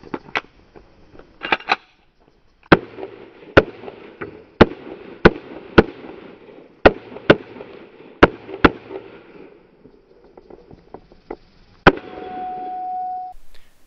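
Pistol shots ring out at a practical shooting match stage, a dozen sharp, loud reports fired in quick uneven strings with brief pauses, then a final shot followed by a faint sustained tone.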